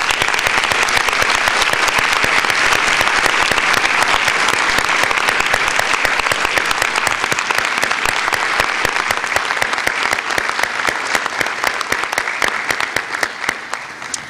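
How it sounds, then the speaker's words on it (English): Loud, dense applause from an audience at a school board meeting honoring student award winners, sustained evenly for over ten seconds before easing slightly at the end, with no talking over it. "Again, a round of applause."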